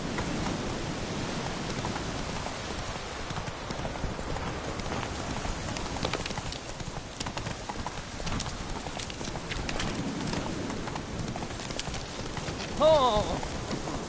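Roach, the horse in The Witcher 3, gallops in a steady rapid clip-clop of hooves over rain pattering on the ground, with a short shout near the end.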